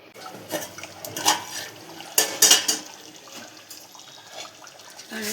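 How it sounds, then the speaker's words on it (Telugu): Water poured into a pan of chicken curry cooking for gravy in a home kitchen, with splashing bursts of pouring and clinking between quieter stretches, moderately close. "కొన్ని వాటర్ పోసినాను నేను గ్రేవీ కోసం"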